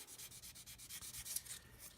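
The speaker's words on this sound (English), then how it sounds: "I'm just going to gently rub that now with the blue sanding stick" A blue sanding stick rubs gently over a plastic scale model part, about a dozen quick, even back-and-forth strokes, faint and close.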